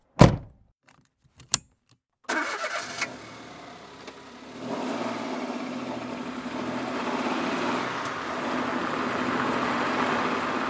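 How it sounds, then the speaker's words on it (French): A person settles into a car on a quiet, nearly empty road: a couple of sharp thunks and clicks, then the engine starts and settles into a steady running drone that continues to the end. "s'installe dans sa voiture, boucle sa ceinture et démarre."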